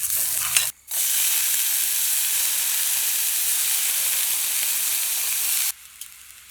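Chopped garlic sizzles loudly and steadily in hot oil in a pan, a dense frying hiss that runs alone for several seconds, with a brief pause near the start and a drop in level at the end.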